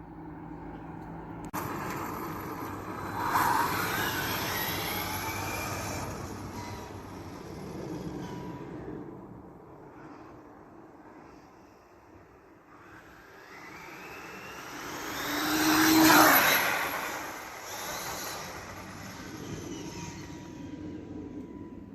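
An Arrma Limitless RC car screams down a straight at speed, its high-pitched motor whine swelling as it passes close, then fading, with a second louder pass rising and receding.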